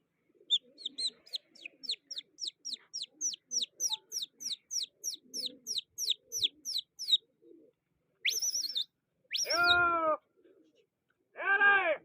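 A quick run of repeated bird chirps, then a few longer, throaty calls like pigeons cooing, close and clear with no talking.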